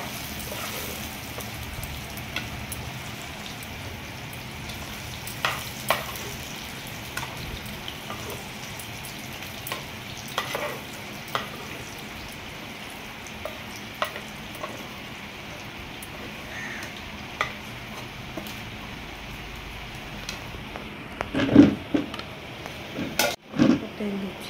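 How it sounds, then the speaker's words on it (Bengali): Taro stolons fry in oil in a wok with a low, steady sizzle, broken by occasional scraping stirs and a few louder clatters near the end. "লতাগুলোকে প্রায় 2-3 মিনিটের মতো ভাজার পর ভালো করে ভেজে"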